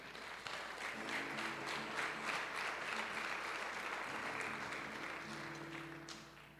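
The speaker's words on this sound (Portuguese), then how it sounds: "Uma salva de palmas para o jovem." A church congregation gives a round of applause for a young man during a service, continuous quiet clapping heard from some distance that tapers off near the end, with a low tonal hum beneath.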